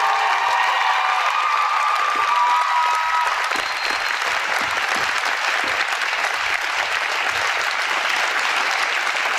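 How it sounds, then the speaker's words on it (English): Students at a school assembly celebrating a football state championship applaud and cheer, producing a loud, sustained wash of clapping with whoops in a large hall, steady throughout. "could you please stand for one more applause?"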